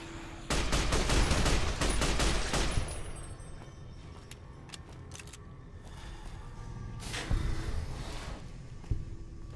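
Laser rifle gunfire in a video game: a rapid, loud burst of shots, then scattered single zaps and a second quieter volley, with no talking.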